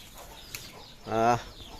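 A chicken clucks in a short, loud burst, with rooster and hen calls nearby amid faint farmyard background noise.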